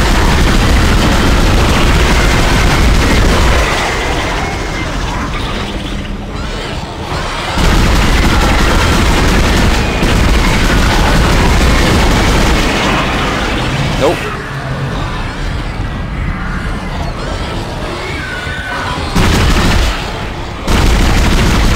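Weapon fire booms repeatedly in the Dead Space video game, loud shots and bursts spread across a long stretch, with a player talking throughout.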